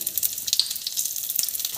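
Cumin seeds, two dried red chillies and two bay leaves crackle in two spoons of hot oil in a kadai, a close, bright, continuous sizzle with scattered sharp pops and spits and no voices.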